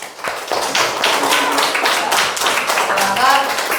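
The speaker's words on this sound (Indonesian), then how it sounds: "Beri aplaus kembali." A classroom of students applauds together, a dense wash of many hands clapping steadily and loudly for a few seconds.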